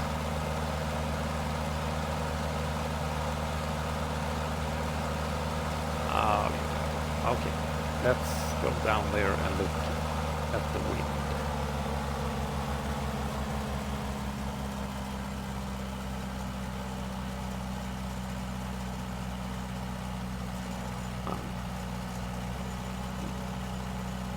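The piston engine of a small aircraft in Microsoft Flight Simulator 2024 hums in a steady, even drone while it is being leaned. A few brief clicks and bumps sound over it midway.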